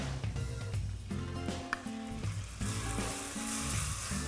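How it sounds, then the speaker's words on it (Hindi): Sliced onions frying slowly in a pan for chicken korma, a soft continuous sizzle heard close with a brief utensil tap, quiet and with no voices over it. "ये जो मीठा मीठा प्याज का भुनना है ना"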